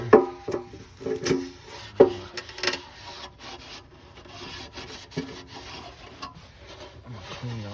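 An F-150 oil pan surface is scrubbed clean with brake cleaner, giving irregular rough rubbing and scraping strokes, close and moderately loud, with short pauses between bursts.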